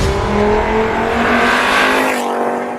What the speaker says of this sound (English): I reviewed a Golf VR5 which sounded like this